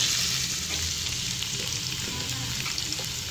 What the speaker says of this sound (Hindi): अब मैं इसके अंदर प्याज ऐड कर दूंगी।